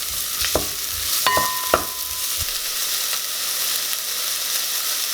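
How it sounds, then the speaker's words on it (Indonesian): Onions sautéing in a pan for lasagna sauce, a steady broadband sizzle with a few sharp spatula scrapes and clinks early on, close and fairly loud with no talking. "bawang bombay, tumis sampai harum"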